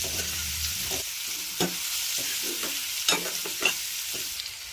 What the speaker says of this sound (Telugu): ఈ మసాలా పచ్చివాసన వచ్చేంత వరకు మంచిగా ఫ్రై చేసుకోవాలి